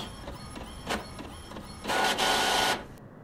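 An office printer in The Mortuary Assistant game runs through a print job: rhythmic mechanical clicks and whirs, then a louder sustained feed burst before it stops abruptly.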